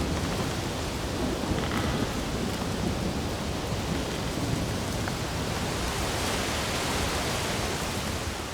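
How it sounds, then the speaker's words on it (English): A subtropical storm pours steady heavy rain with low thunder rumbling, a dense continuous roar of wind and rainfall, loud and close throughout with no distinct breaks. "to shield her from a subtropical storm"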